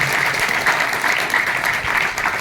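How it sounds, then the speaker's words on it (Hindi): Audience applause at a religious discourse in a Dadu Panthi temple in Jhinjhar: steady, dense clapping from a gathered crowd, fairly loud and sustained throughout with no voice over it. "इस काम के लिए सबको ताली बजाना चाहिए"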